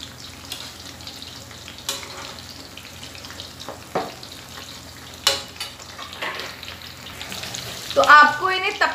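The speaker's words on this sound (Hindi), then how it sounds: "तो आपको इन्हें तब तक सेकना है जब तक ये क्रिस्प ना हो जाए।" Barule, a crisp fried snack from Aligarh, sizzle in a pan over a gas flame, a steady frying hiss broken by a few sharp clinks and scrapes of stirring, with a brief burst of bubbling near the end.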